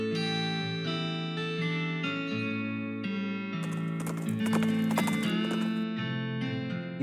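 Horse sounds in the video game West of Loathing ring out briefly over steady tonal game music, a cluster of sharp clopping bursts in the middle, fairly quiet.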